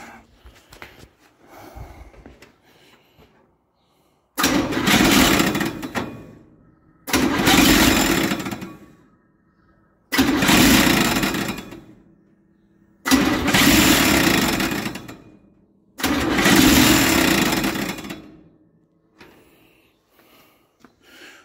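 A parts truck's 283 V8 engine cranks over in five long bursts separated by pauses, the starter churning loudly each time without catching.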